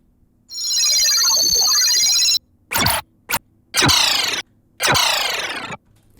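A series of synthetic electronic sounds: a long warbling tonal sweep, then short glitchy bursts and descending chirpy whooshes, futuristic and bright with no voices.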